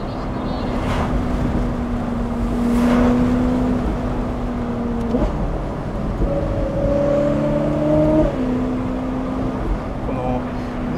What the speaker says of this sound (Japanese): ブリリアント のマフラーがですね入ってるんですけど、奇跡的な音がしますよね